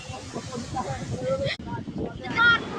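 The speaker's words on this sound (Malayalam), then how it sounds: "കാലാവസ്ഥ കണ്ടാ ഗൈസ്, ഒടുക്കത്തെ കാറ്റും മഴയാണ്" Strong wind and rain on an evening outdoors, heard as steady rushing, gusty noise buffeting the microphone, with voices talking over it throughout.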